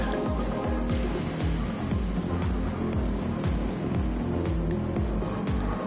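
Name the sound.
Gr.3 race cars at Spa in Gran Turismo 7 video game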